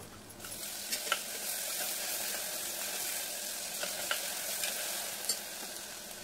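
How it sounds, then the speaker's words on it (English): Onions and ginger garlic paste fry in a small amount of oil, giving a steady close sizzle with light spatters and occasional soft stirring clicks throughout. "Add 1 spoon of ginger garlic paste and fry until the raw smell disappears."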